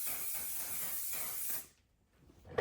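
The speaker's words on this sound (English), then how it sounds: "it has the aerosol can, so it's a continuous spray" Aerosol setting spray can releasing a continuous fine mist, a steady close hiss lasting about a second and a half before cutting off, followed by quiet.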